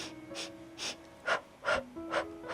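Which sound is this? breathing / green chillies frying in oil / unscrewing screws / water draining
breathing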